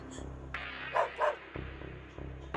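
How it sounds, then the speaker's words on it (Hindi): A dog barks a few times from some distance on a rooftop in an old, spooky house, with steady background hum and faint voices. "कुकुर, भौंकना, देना अपने मालिक को सिग्नल कहीं से।"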